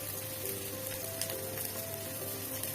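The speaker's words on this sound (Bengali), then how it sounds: "ভালো করে বাদামি কালার করে ভেজে নিব" Chopped garlic and green chili frying in a pan until brown, a dense continuous sizzle with scattered crackles and pops, steady and close with no talk.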